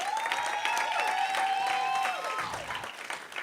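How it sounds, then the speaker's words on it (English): An audience at a university campus inauguration ceremony applauds a choir, steady clapping with a tonal whistle-like cry riding over it before the sound eases off. "ask our audience to give a round of applause"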